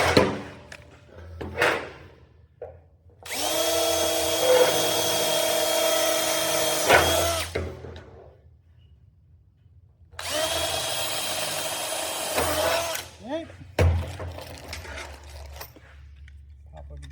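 A power drill bores through a fabricated roof cap in two long, steady whirring bursts separated by a pause, with shorter tool clatter and handling noises in between and at the end.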